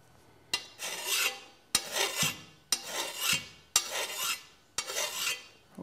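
A file sharpening the edge of a lawnmower blade at a 45-degree angle, five distinct rasping strokes at an even, unhurried rhythm, each with a sharp start, close and clear with no talking.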